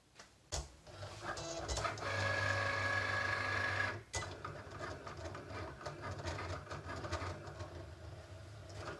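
Cricut cutting machine slicing vinyl on a mat, a mechanical whirring with stepping motor tones and short pauses, a sustained higher whine partway through, close and fairly clear with no talking.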